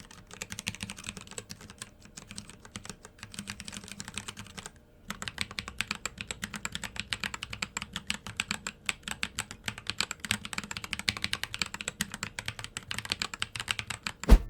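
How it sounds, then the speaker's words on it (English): Rapid, steady typing on a mechanical keyboard fitted with thin, light keycaps produces dense, crisp clicky keystrokes at close range, with one short pause partway through. "the sound of these keycaps will highly depend on the switches that you use"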